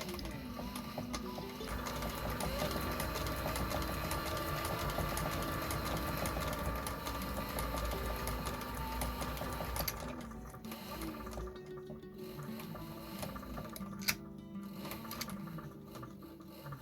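A sewing machine stitching a leather knife sheath runs in a steady, continuous mechanical whir at close range, slowing and stopping near the end with a few small clicks.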